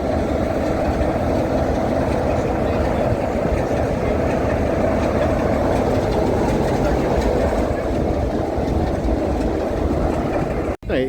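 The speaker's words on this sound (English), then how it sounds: "right here is the diesel that's just pulled us back from Minehead, 6566." Diesel locomotive 6566 on the West Somerset Railway, just back from Minehead, gives off a loud, steady low rumble close by that holds level throughout and cuts off briefly near the end.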